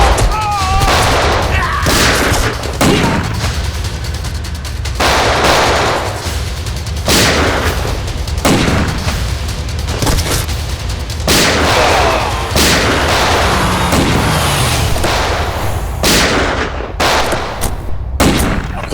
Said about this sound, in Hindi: तो गोलियां चल रही हैं